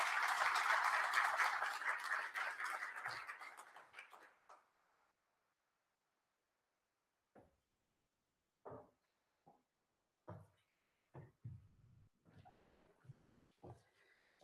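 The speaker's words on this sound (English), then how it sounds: "Shall we please give her a resounding round of applause?" Applause at a Canada-Africa business conference in Namibia for a ministry director, starting full and dense, then thinning and fading out after about four seconds, followed by near silence with scattered faint ticks and knocks.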